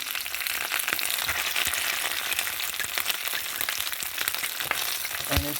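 Slices of cabbage fry in a pan just after being flipped, producing a loud, continuous crackling sizzle with sharp pops throughout and no talking.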